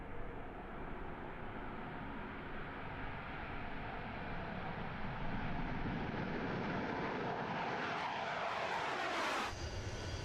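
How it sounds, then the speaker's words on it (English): Su-25 Frogfoot jet aircraft at the Russian aviation center in Lipetsk, a continuous loud engine roar that holds steady throughout and swells slightly toward the end, with no voices. "These Su-25 fighter jets, NATO codenamed Frogfoot at the Russian Aviation Center in Lipetsk"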